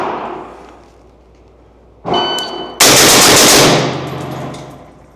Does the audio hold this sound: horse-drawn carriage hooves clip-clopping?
no